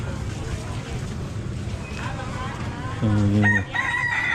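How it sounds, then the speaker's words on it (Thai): A rooster crows loudly near the end, ringing out over a busy background of chatter and bustle at a morning market in Bangkok, Thailand. "โอ้ มีเสียงไก่ด้วย"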